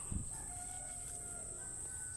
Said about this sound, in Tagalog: Ay, si Risa, mapakaon sa manok.